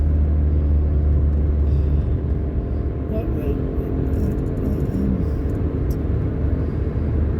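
A car drives through Rhoose, Wales, on the route between Barry and St Athan. A steady, close engine and road rumble fills the cabin the whole time, with no breaks.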